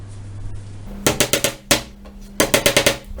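Nails being hammered into MDF board: two quick bursts of sharp, ringing hammer strikes, about four to five blows each, close and loud with a short pause between the runs.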